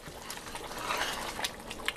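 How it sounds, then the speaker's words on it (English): A pot of water at a rolling boil before rice is added, with close bubbling, gurgling and soft hissing that swell and pop irregularly for a couple of seconds, with no voices. "The water is boiling like crazy now."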